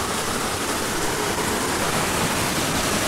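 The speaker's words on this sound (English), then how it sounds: "So this is it, waterfall number 2." A waterfall a couple hundred feet tall cascades down a hillside, giving a steady, loud, broadband rush of falling water that holds constant throughout with no pauses.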